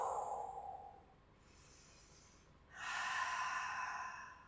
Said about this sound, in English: And see that exhalation actually sounds like the sound of the ocean when it's breathing in.